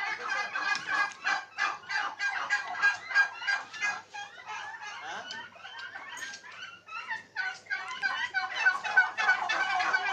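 A crowd of turkeys gobbles nonstop inside the shed of a breeding turkey farm in Narsingdi, overlapping bursts of rapid, warbling calls filling the air close by.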